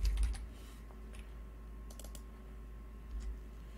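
Keystrokes on a computer keyboard while entering VBA code in Excel, a few scattered clicks and short bursts over a steady low hum, fairly faint and close.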